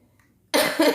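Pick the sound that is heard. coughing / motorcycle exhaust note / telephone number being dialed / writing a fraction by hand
coughing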